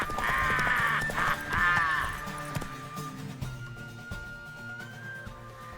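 Horse sounds in the Witcher 3 video game: a whinny near the start, then soft hoof clip-clops under game music and a voice speaking.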